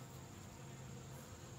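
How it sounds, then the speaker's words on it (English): Honey bees buzz steadily at an open backyard hive during an inspection, a soft continuous hum of many bees close by, faint and without talk. "Look at them on the lid. Heck yeah, they're up here building comb"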